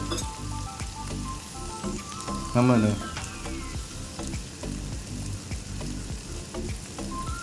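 Curry leaves sizzle and crackle in hot oil in a pan, stirred continuously while making Kolhapuri-style egg bhurji, with a steady frying hiss, clattering stirs and a brief louder burst partway through.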